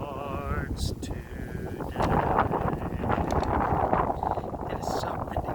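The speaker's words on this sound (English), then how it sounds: "It is so windy. The tripod almost tipped over." Strong outdoor wind buffets the microphone with steady, loud broadband rumble throughout, while a person sings or talks over it at times.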